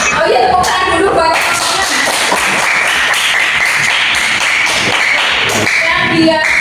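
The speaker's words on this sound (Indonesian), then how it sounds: "tepuk tangan dulu buat" Classroom pupils clap their hands together in a dense, steady burst of many overlapping claps that fills the room, loud and close.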